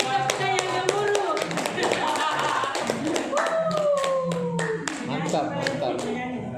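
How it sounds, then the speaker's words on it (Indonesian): An audience at a school principal candidate training presentation breaks into dense clapping that holds steady and loud throughout, with voices and chatter mixed into the applause. "Beri tepuk yang gemuruh."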